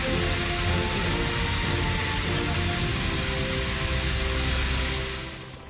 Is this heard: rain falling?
yes